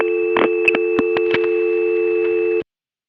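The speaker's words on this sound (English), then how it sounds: "That'll give us the 453 dial tone on one line, while on the other line you'll hear the stacked call disconnecting" Dial tone from a 453 exchange in 1976 hums steady and loud on one tie-line while a series of clicks and short bursts from a stacked call disconnecting on another line cuts across it, then everything stops abruptly.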